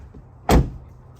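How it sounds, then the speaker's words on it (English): A single solid thud of a car door shutting on a two-door Jeep Wrangler JL, loud and close, with a short low rumble trailing off into quiet as power side steps retract. "And then you shut the door."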